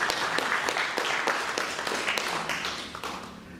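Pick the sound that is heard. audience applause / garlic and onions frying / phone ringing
audience applause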